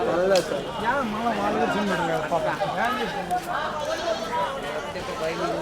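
Goats bleat repeatedly at the Kadiri livestock market, with many overlapping wavering calls close and farther off over a constant background of crowd chatter and people talking.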